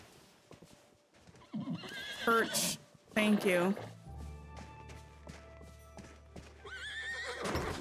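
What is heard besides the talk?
horse neighing and hooves in Disney Dreamlight Valley video game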